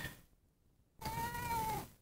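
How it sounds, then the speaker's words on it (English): After a moment of near silence, a cat lets out one drawn-out meow, close and fairly loud. "There's a purring. There's a purr."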